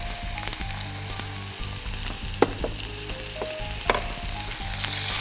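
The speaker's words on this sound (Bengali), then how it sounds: "মশলাটা একটু কষাবো।" Spices frying in a pan with turmeric, chili powder and salt for a Bengali chicken almond mince, a steady close sizzle throughout with a few soft stirring scrapes and clinks, no talking.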